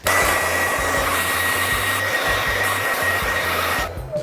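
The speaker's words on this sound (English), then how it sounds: "use a hairdryer and heat the stone for 2 minutes or until the wax melts" A hair dryer blows loudly and steadily for several seconds, heating a stone to melt wax for an art kit, a constant airy whir that cuts off abruptly near the end.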